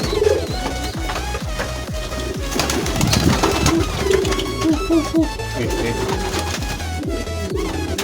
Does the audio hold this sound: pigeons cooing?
yes